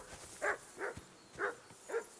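A dog in the video game Kingdom Come: Deliverance II barks four times at a steady, spaced-out rhythm, moderately loud and somewhat distant, with no talk over it.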